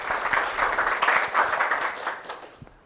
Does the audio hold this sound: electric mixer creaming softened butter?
no